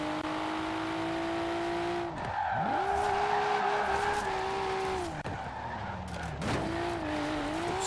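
R33 Nissan Skyline in the Forza Horizon 4 racing game drifting, its tires squealing in long sustained howls over a steady engine drone, with pitch dips as the car shifts and recovers between slides.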